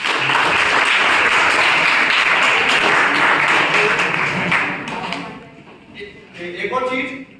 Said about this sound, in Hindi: तालियां बजाएं इसके लिए